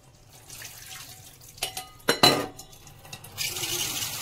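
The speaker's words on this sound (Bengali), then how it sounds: "এবার ভালো করে জল দিয়ে দিতে হবে অনেকক্ষণ।" Water running from a kitchen tap over marigold flowers being rinsed for fritters, with a steady splashing flow, a few louder gushes and faint clinks of a bowl or dish nearby.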